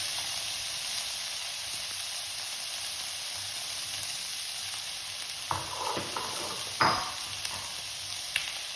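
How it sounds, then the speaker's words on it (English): About 200 grams of fresh green peas frying in a pan, a soft even sizzle running under faint hiss, with a few louder stirring scrapes and clinks near the end, quiet and close. "This is fresh peas, around 200 grams of peas that I am using. And we need to just fry it up a little."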